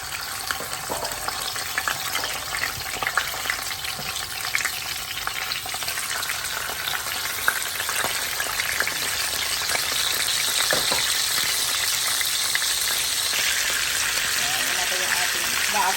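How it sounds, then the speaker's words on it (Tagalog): Sea bream frying in a hot pan, giving a loud, continuous crackling sizzle with scattered spits and pops that swell slightly partway through. "ilagay na po ni Mr. yung ating isda sa kawali"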